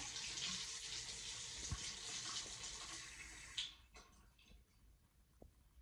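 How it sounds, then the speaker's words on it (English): Water runs from a tap during a winter storm, a steady close hiss of flow that cuts off partway through, leaving faint scattered drips in a quiet room. "I just turn the water on."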